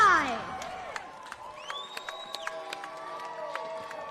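A crowd at a Fusion Fight League grappling match cheers and applauds for the fighters, loudest at the start and then thinning into scattered shouts and whistles, with voices over the top.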